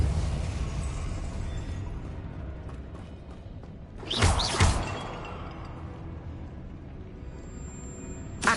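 A Depulso force-push spell is cast in the video game Hogwarts Legacy, a single sharp burst with a crash-like smash standing out midway over a low, steady ambient rumble.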